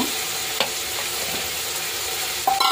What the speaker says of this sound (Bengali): তো পেঁয়াজ আর টমেটো আদাটা ভাজা হয়ে গেছে